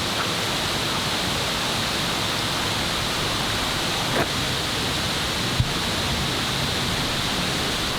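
Water pours steadily down a waterfall close by in wet conditions, a loud, unbroken roaring hiss that stays even throughout, with only a couple of faint knocks and no voices.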